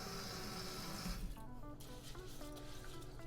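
Tap water running onto a cup of brown rice in a pot, a steady hissing splash for about a second before turning to quieter sloshing and rinsing sounds.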